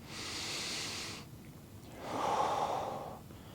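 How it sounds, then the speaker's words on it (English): Slow, deep breathing during a desk stretching exercise, a long airy inhale through the nose followed by a heavier exhale through the mouth, close and alone. "in through the nose, out through the mouth."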